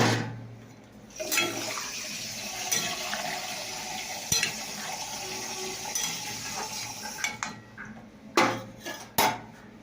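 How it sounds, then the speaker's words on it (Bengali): Water is poured into a pot of vegetable curry after the spiced base has been cooked down. A steady, rushing wash of liquid runs for several seconds, with a few sharp clinks of utensil against pot near the end. No one talks. "তো এবার আমি জল দিয়ে দিলাম।"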